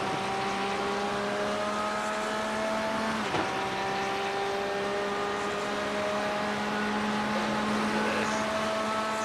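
McLaren and Porsche GT race cars in a sim racing game run at close range, engine notes droning steadily with sustained harmonic tones and a brief shift or dip partway through.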